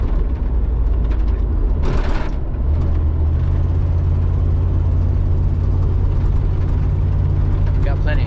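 An old vehicle engine running rough and sputtering during a drive to town in the rain, a steady low rumble with uneven surges, close and loud, continuing under the cabin noise.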